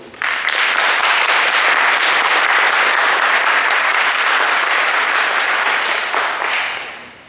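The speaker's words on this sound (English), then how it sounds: "Let's start this special occasion with a big round of applause" Loud, sustained applause from a large audience, steady clapping for about six seconds before fading out at the end.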